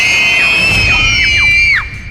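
A single loud, shrill scream held for nearly two seconds with a sliding, wavering pitch before it breaks off sharply, close and intense.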